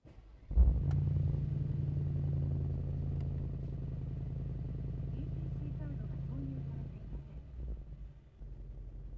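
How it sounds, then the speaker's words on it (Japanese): A 2018 Mercedes-AMG G63 engine cranks and catches with a sharp burst, then settles into a steady, deep idle rumble that continues close by, dropping slightly near the end. "ではエンジンを始動していきます"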